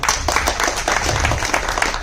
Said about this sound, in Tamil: அதுக்கு மிகப்பெரிய கைத்தட்டல கொடுக்கலாம்.